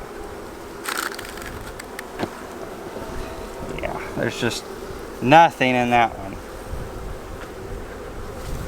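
Honey bees buzz around a hive frame in an apartment honey yard during a pollen flow, a steady insect hum with a few louder passes close by while a person speaks briefly over it.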